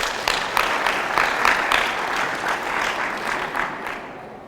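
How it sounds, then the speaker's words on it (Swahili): An audience at a televised debate competition claps in sustained, dense applause that swells and then gradually tapers off, with no voices over it. "Wapigie makofi."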